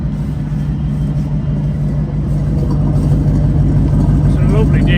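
Alvis Stalwart military amphibious truck engine running with a steady, deep rumbling drone, close and loud throughout, with a slight rise toward the end.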